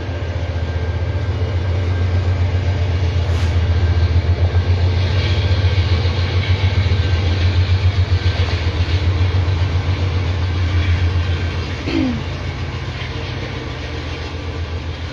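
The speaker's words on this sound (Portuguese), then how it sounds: "agora tá passando o trem aqui, então tem um barulhão do trem" A train passes nearby with a loud, continuous low rumble and rhythmic clatter of wheels on rails, steady for most of the stretch before easing off slightly near the end.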